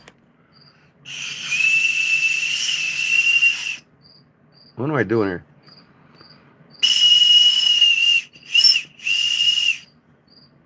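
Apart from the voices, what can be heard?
novelty toy whistle being blown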